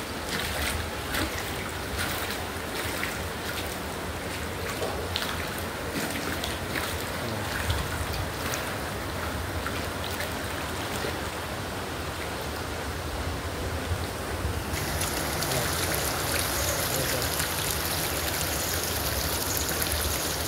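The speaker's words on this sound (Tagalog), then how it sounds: "Ilog ng tubig." River water flows steadily near Talam, Batangas City, a continuous broadband rush that stays loud and even throughout, brightening slightly near the end, with no voices.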